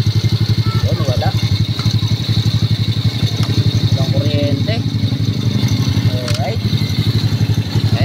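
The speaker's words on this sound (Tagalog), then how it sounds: "So maandar na po yung motor." A motorcycle engine idles steadily and loudly up close, its rapid even chugging running throughout with faint metallic clatter on top, during work fitting a mini driving light.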